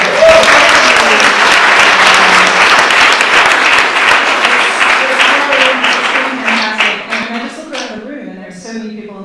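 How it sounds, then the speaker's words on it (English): Loud, close applause from a conference audience fills the room with dense clapping, gradually thinning out while a speaking voice comes through in the final seconds. "Big round of applause."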